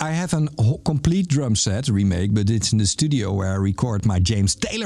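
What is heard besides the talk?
No everyday noises stand out.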